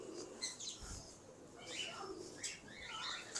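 Pigeons kept by a breeder coo softly and intermittently, with faint chirps and a brief flutter of wings, fairly quiet against a low background.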